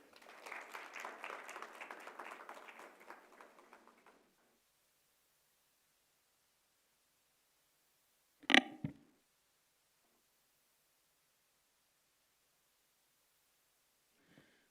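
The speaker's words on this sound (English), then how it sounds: "with a warm round of applause" A short burst of clapping from a small crowd at a university orientation fades out after a few seconds, followed by silence and a single sharp knock.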